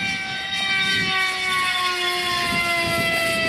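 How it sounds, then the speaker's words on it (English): An AXN Clouds Floater RC plane, electric and drawing about 505 watts, screams past on a fast downwind pass, a loud, steady, high-pitched motor whine with a slight pitch shift as it goes by. "Downwind pass from Brent."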